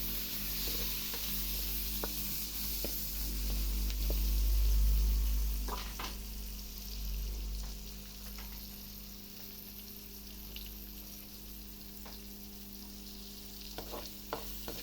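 Garlic and onion sauté in a hot pan for fried fish with uttan, a steady frying hiss under occasional scrapes and stirring clicks, with a low rumble swelling midway; no one speaks.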